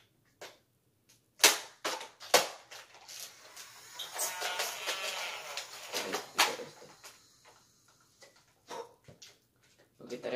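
Scattered sharp snaps of Nerf blaster darts being fired, irregular and fairly close, some in quick pairs, with a stretch of voice and rustling in the middle and quiet gaps around them.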